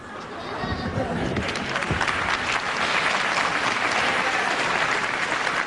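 Wrestling crowd applauding during a Johnny Saint versus Vic Faulkner bout, a swelling, steady patter of clapping that builds and holds loud, with a commentator talking over it.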